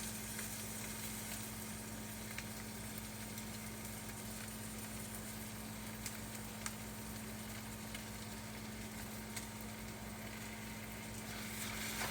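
Pad thai sauce sizzles in a hot pan as it is stirred in, a soft, steady frying hiss over a low hum, with faint occasional clicks.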